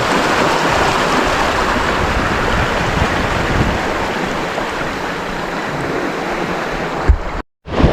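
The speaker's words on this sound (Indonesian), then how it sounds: "Ini cuaca udah mulai berangin teman-teman." Wind rushes steadily at a seaside fishing spot, mixed with roaring surf and rumbling microphone buffeting, until it cuts out briefly near the end.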